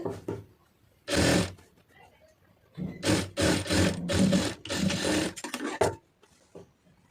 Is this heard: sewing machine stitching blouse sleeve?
yes